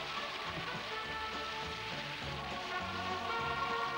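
In a Hindi film scene, a continuous hiss of rain falls inside a car, with a faint tonal background that sounds like a music score. The rain stays even throughout, and no one speaks.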